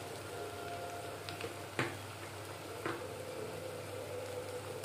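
Ginger, garlic and cumin paste sizzling in a hot pan for prawn pulusu, a steady close frying hiss with a few brief crackles and pops, no voices.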